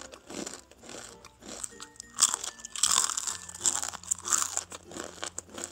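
A crunchy fried kembang goyang cookie made with sesame and coconut milk is bitten and chewed close to the mic, giving crisp crackling crunches in irregular bursts with no talk.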